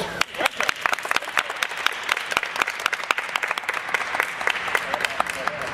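A crowd applauds, dense rapid clapping that continues steadily throughout at a fairly loud level.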